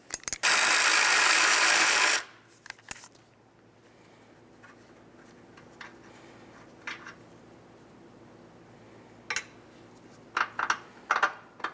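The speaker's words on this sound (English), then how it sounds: "We're going to go ahead and remove the 15mm nut that holds the first wire on" Ratchet loosening a 15mm nut on a car battery terminal wire of a Dodge Journey: a loud burst of rapid ratcheting clicks for about two seconds, then scattered faint metallic clicks and taps.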